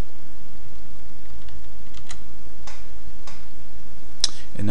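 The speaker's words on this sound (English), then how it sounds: "I'll just quickly type this in." Quick keystrokes on a computer keyboard, light scattered clicks over a steady background hiss, close and fairly soft, with no speech.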